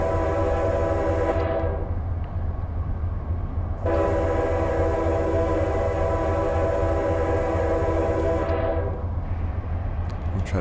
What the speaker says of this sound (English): I'll try to do a bit better job this time of stopping the train